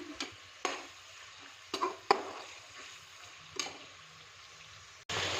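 Chicken pieces cook in a pan as released water dries off for a vegetable pulao, with several sharp scraping stirs and clinks over a faint sizzle, close and with no talking.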